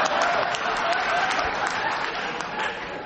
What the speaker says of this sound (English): why do they clap you every time you make a mistake?